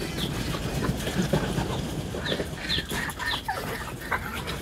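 Chickens and ducks on a Vietnamese village farm squawk and cluck in a busy, overlapping chorus, with a few sharper calls standing out over the steady background noise.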